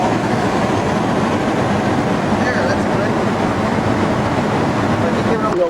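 A train in motion carries a van on board, rumbling steadily and loudly throughout with a constant broadband roar and faint rail clatter, close by.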